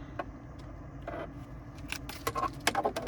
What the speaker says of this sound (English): here's our key fob